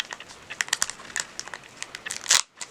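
A Pokémon card booster pack wrapper from a La Voie du Maître elite trainer box is torn open close up: a run of crisp crinkles and crackles building to a sharp final rip, then quiet.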